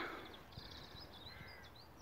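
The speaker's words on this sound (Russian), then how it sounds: "Птички поют." Birds calling in an early-spring vegetable garden on marshy ground, high chirps and crow-like caws scattered over a steady outdoor background, moderately distant, no talking.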